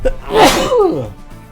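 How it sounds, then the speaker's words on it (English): A single loud sneeze, one person, close up: a quick intake followed by a sharp burst that trails off within about a second, with no talk around it. "I'm gonna sneeze again"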